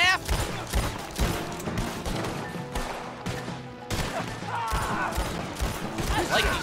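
Pistol shots ring out in Red Dead Redemption 2 as a quick, loud string of cracks, fired repeatedly in bursts over game noise and a talking voice.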